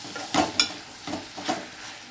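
Tomatoes sautéing in a pan after softened onions, a soft steady sizzle broken by a few louder scraping stirs of a spoon, close up with no talk.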